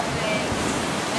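Steady wash of surf and breeze on an open beach at a wedding ceremony, a continuous loud rushing roar with no breaks and no voices.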